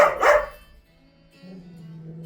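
A dog gives one close, loud bark at the start, followed by a low steady hum of the surroundings.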